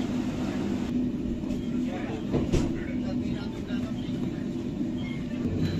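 Inside a fast-moving passenger train running from Delhi toward Kanpur, a steady low rumble and rattle of the carriage with a brief clank partway through, continuous and fairly loud.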